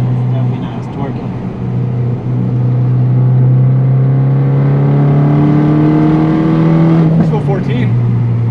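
A Fiat 500 Abarth fitted with a GT2860 big turbo, untuned, pulls hard from inside the cabin, its engine note climbing steadily for several seconds before easing off near the end.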